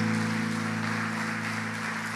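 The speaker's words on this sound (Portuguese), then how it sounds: "Vamos receber o bispo David aplaudindo a Jesus, bem forte." A church congregation claps together in steady, even applause that fills the room evenly for a couple of seconds, moderately loud and without voices.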